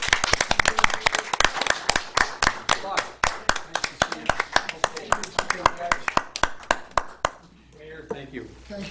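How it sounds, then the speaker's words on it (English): A few people clap loudly and close by at a Village of Depew reorganization meeting after village trustees are sworn in. The sharp, distinct claps keep a quick uneven rhythm for about seven seconds, then stop into room quiet. "Let's have a nice round of applause,"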